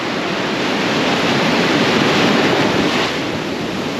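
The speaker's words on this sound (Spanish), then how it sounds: "Qué escándalo de agua." Ocean waves break on Praia Grande beach at Arraial do Cabo, Brazil, as a loud, continuous roar of surf with wind buffeting the microphone and no voices.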